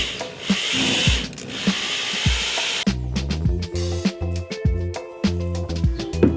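A power tool mixes lime mortar during renovation of an 1857 rowhome, loud rhythmic churning and grinding with scraping bursts that start and stop in quick pulses.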